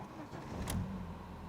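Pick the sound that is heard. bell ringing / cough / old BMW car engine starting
old BMW car engine starting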